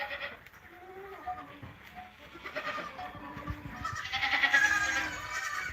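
Goats that have recently given birth bleat repeatedly as they file into a farm enclosure, their calls overlapping at close range over a busy background of shuffling livestock.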